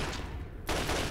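Gunfire erupts in Fallout 3, a sudden dense burst of shots that cuts in partway through and keeps going loudly to the end, after a stretch of quieter background.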